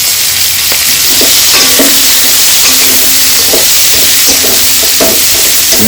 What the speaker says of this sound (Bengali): ওই মাছ ভাজার তেলে পেঁয়াজ কুচি।